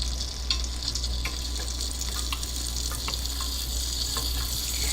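A steady, soft sizzle of garlic sautéing in butter in a pan for spinach soup, with occasional light clicks of stirring, close and continuous without talking.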